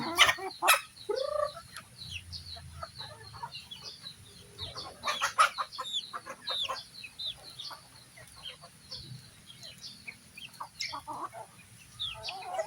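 Green Legs chickens cluck and chatter in short, scattered bursts, some sharp and close, others softer, with a faint steady hum in the background.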